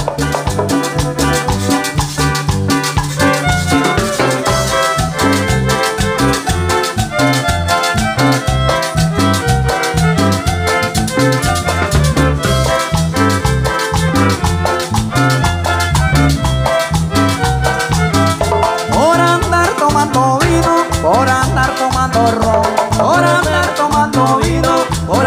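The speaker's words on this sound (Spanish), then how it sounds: "continuamos ahí con más sabor de los violines" Violins playing Salvadoran campirano music with a full band, a steady, loud, rhythmic dance groove with bright bowed melody lines running continuously over a driving beat.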